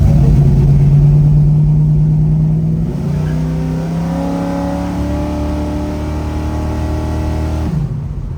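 A 1971 Chevrolet Chevelle with a 572 big-block engine pulls away on a street, its loud deep exhaust holding a steady rumble, then rising in pitch as it accelerates before easing off at the end, close and with no voices.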